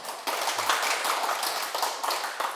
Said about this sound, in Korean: 들어올 수 있는 사람 박수를 한번 쳐보세요.